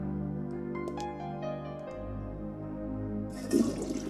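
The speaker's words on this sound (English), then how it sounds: "We can just flush it now" A toilet flushes in the video game Sanitarium, a rushing water swirl that builds and gurgles under a low, droning game soundtrack, with the loudest surge near the end.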